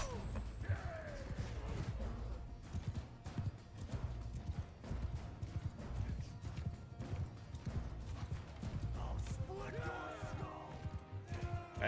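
Horse hooves gallop in the video game Mount and Blade 2, a rapid rhythmic clip-clop running steadily throughout, with a horse whinny near the end and a voice talking over it.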